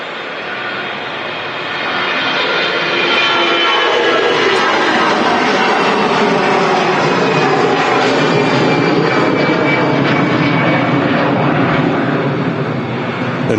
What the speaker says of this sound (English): EasyJet next to depart out on 2-3 right. Already on the roll out to Dalaman.